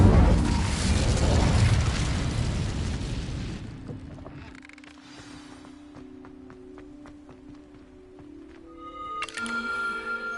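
A loud fiery whoosh bursts from an Incendio spell in the Hogwarts Legacy game, roaring close for a few seconds before fading into a quieter, tonal magical ambience with a rising shimmer at the end.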